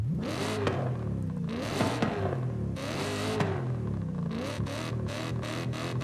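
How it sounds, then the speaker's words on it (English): Race exhaust on a car in Forza Horizon 5 barks through repeated hard revs and shifts, the loud engine note climbing and dropping in rapid bursts with brief gaps between throttle blips, no voices over it. "And now the race exhaust."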